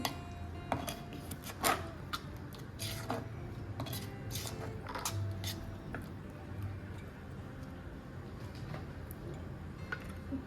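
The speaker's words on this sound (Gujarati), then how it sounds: "અને હવે આપણે આ બધી વસ્તુ બરાબર મિક્સ કરી લઈશું" A spoon mixes mango pickle ingredients in a bowl: raw mango pieces, jaggery and Kashmiri red chili. Soft, irregular clicks and scrapes come quietly and close up, with no talk.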